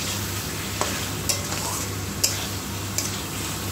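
Fish (aar) is turned gently in a spiced masala gravy in a pan, with a steady sizzle under light periodic scrapes and clicks of the spatula.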